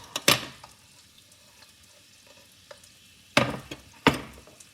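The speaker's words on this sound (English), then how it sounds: "I'm going to saute this for about a minute or two." Onion, peppers and tomato go into a hot pot of oil, with a few sharp stirring and scraping bursts standing out over a quiet sizzle and brief pauses between them.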